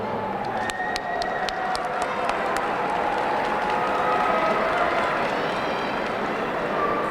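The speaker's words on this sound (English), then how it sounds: "Please give all of our graduates a round of applause." A large commencement audience applauding its graduates, a dense, steady wash of clapping from many hands with scattered cheers, held at an even, fairly loud level throughout.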